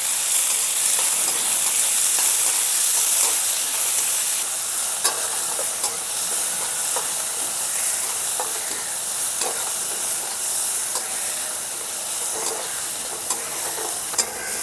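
Green chillies, onion and grated ginger-garlic fry on a high flame in a pan for a veg momo filling, producing a loud, steady hissing sizzle with scraping stirs, close up and alone.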